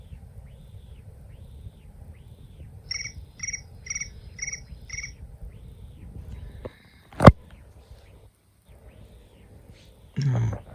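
An iPhone 15 Pro crickets ringtone, a rapid, high-pitched chirp repeating in a quick pulsing series of about five bursts, then a sharp click and some faint rustling.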